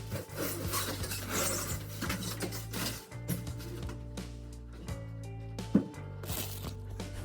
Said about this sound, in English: use more stretch wrap on pieces like this or heavy couches